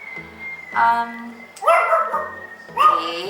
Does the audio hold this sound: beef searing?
no